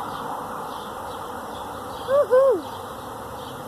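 Honeybees swarm into an old hive outdoors, a faint continuous buzzing hum throughout, briefly covered by a person's loud excited whoop.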